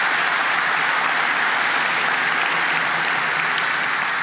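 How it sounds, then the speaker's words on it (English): Conference audience at Laracon EU in Amsterdam claps loudly and continuously, a dense, even wash of applause filling the hall from start to finish. "A big applause for Bobby."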